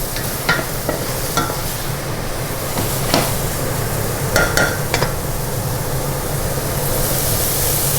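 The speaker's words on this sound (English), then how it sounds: "We're just sweating them off in the same pan" Shallots sweat gently in a pan over lowered heat for braised oxtail, giving a steady soft sizzle with occasional scraping stirs and light clicks of a utensil against the pan, close and continuous with no talking.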